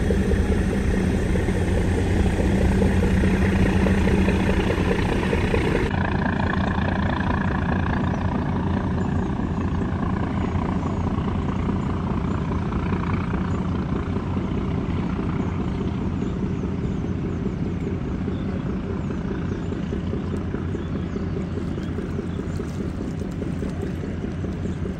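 Engine of a passenger launch ferry arriving at the ghat on a foggy morning, a steady low diesel drone and rumble that continues throughout, louder and fuller in the first few seconds, with no talk.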